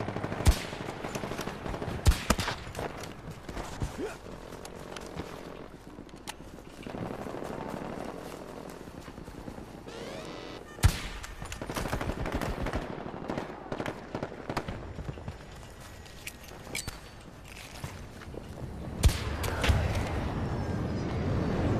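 Sniper rifle gunfire in the Battlefield 2042 video game, fairly faint sharp cracks spaced irregularly among distant battlefield shooting and explosions, with brief bursts of rapid fire.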